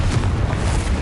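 A Confringo fire spell bursts in the Hogwarts Legacy magic game, a loud, rough, broadband blast that roars without a break for about a second, with no one speaking.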